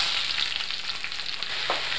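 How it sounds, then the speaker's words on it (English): Onions frying in a pan for curry, a soft continuous sizzle with light stirring and a brief clink near the end, no voices. "I'm going to go ahead and add my onions."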